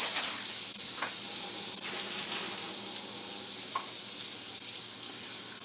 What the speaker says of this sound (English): we're just going to drop a little bit of frozen spinach straight into that bacon grease